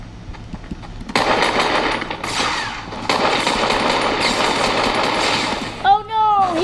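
Bursts of rapid automatic gunfire from the video game Fortnite rattle loudly and continuously, with a brief pause, then more sustained firing and a short electronic sweep near the end.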